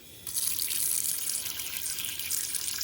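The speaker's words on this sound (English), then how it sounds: "add some water to this" Tap water gushes into a pot at a kitchen sink, starting abruptly and then running as a bright, steady splashing stream close by, with no voices.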